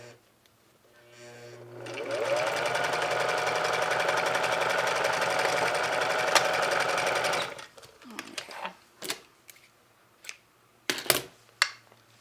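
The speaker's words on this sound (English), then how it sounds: "Now I'm going to do some major back stitching down here, of course." A home sewing machine runs in one steady, loud stretch of about six seconds while back stitching a dress, then stops, leaving a few short clicks and handling noises.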